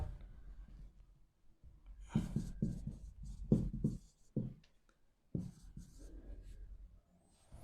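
Close, faint pen-on-paper scratching as a word is written by hand, in irregular short strokes with quiet gaps between them.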